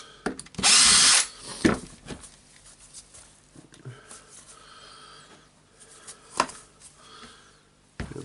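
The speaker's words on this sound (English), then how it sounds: "Yeah, just unscrewing all the screws." A power screwdriver takes screws out of a Makita 9911 belt sander during disassembly, with one loud whirring burst near the start, then faint clicks and clatter from handling the sander housing.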